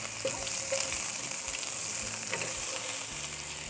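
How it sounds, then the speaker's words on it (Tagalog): Onion sautéing in hot oil in a pan, cooked outdoors on a farm: a steady, dense sizzle and crackle runs throughout at close range with no talking, with faint stirring sounds now and then. "So yan, gisa-gisa lang tayo."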